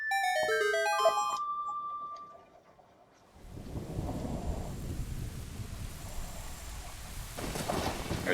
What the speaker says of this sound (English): there's going to be lightning striking